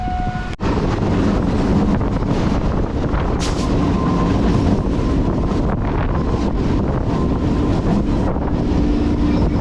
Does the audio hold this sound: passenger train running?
yes